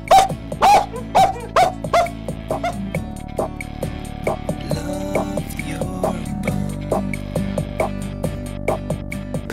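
A person imitates a dog, letting out a series of loud, rhythmic barks and yips that gradually give way to softer, shorter woofs.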